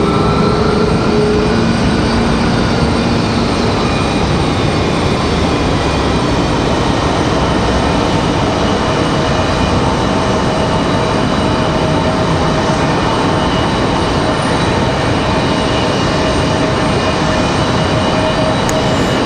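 Airliners at Raleigh-Durham International Airport, including an American 737 waiting at the end of the runway, produce a loud, steady, continuous jet-engine roar with faint whining tones, unbroken for the whole stretch.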